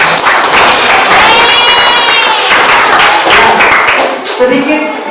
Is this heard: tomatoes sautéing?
no